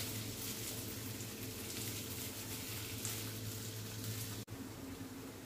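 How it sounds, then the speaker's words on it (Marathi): Potatoes frying in ghee over a low flame give a steady, soft sizzle and bubbling hiss that stays even throughout, briefly cutting out near the end. "हे बटाटे एक गोल्डन रंग येईपर्यंत आपण फ्राय करून घेऊ या तुपामध्ये"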